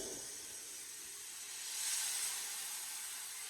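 Wine poured into a hot pot of toasted spices for crab cioppino, giving a steady steaming hiss that swells briefly in the middle before settling, with no talk.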